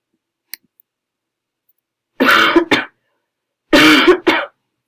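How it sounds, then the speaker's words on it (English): Two harsh coughs, each a double burst, come a couple of seconds apart, close and loud, with a few faint clicks before them. "Getting a cough."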